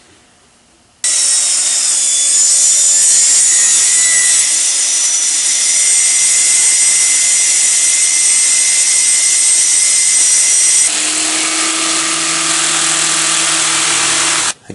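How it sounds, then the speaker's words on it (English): A jigsaw cuts a hole in a road case panel with a loud, continuous high buzzing whine that holds steady for about thirteen seconds, its pitch shifting slightly near the end before stopping. "I chose to cut this hole with a jigsaw since I didn't have a hole saw"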